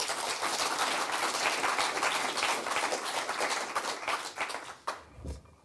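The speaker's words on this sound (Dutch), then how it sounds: "mag ik een hartelijk applaus voor Bart Leeuwenburg" Warm applause from an audience for a speaker at a talk, a steady wash of many hands clapping at moderate distance that tapers off with a few final claps.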